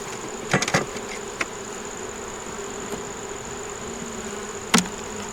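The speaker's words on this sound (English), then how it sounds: "I'm just showing y'all what my bees here are doing." Honey bees buzz around an open beehive, a faint continuous hum with a few louder, sharp knocks.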